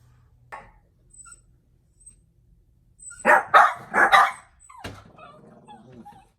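A dog barks several times in a quick burst, fairly close, after a few faint yips and whimpers in an otherwise quiet room.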